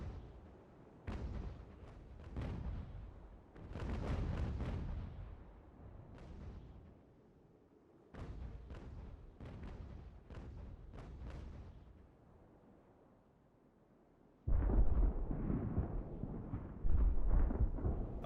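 Cannon fire from sailing warships in the Ultimate Admiral: Age of Sail video game, with several rolling booming broadside volleys in separate bursts, heavy and rumbling, separated by quieter gaps.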